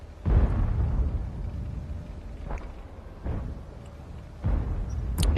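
Heavy tank gun firing an APCR armor-piercing round in World of Tanks, a deep booming blast followed by several more low thuds and bursts spread across the stretch, loud and with no talking.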